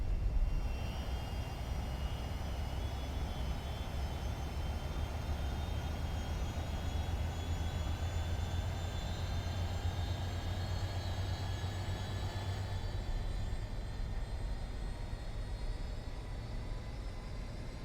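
Steady, continuous jet engine rumble with a high whine on top from a C-17 Globemaster III starting up in Microsoft Flight Simulator 2024, holding loud and even throughout, with no voices.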